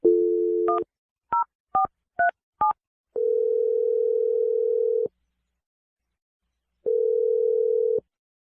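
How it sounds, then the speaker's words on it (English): A telephone line sounds a steady dial tone, then a quick run of five short DTMF keypad beeps, followed by a longer ringback tone, a silent gap and another ring, clean and close with no voices. "I'm gonna dial the number right now."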